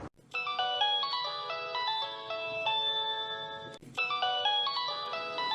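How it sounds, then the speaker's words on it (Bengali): A mobile phone plays a melodic electronic ringtone, loud and close, looping its tune twice with a brief break between rounds and no voices. "কিরে তোর ফোন বাজতেছে,"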